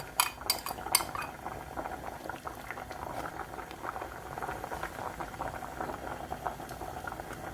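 Braised cutlassfish simmering in a pot with seasoning sauce scraped on top, a steady soft bubbling and liquid patter with a few sharp utensil clinks at the start, close and moderately quiet, no talk.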